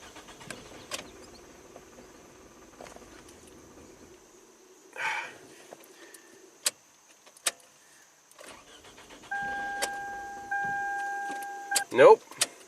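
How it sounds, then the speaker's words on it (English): A 2009 Toyota Camry with a start-stall fault cranks for a couple of seconds near the end, a steady whirring drone that fails to catch, after scattered clicks and knocks in the cabin. "Let's see if it'll fire up again."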